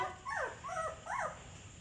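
A puppy whimpers in a home kitchen, giving three short, rising-and-falling whines in quick succession, faint and close against a quiet background.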